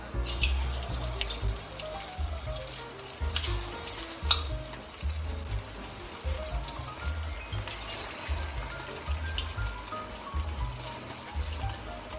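Chicken 65 pieces sizzle and crackle in hot oil, a steady dense frying hiss with intermittent bubbling pops and utensil clinks, close by and without talk.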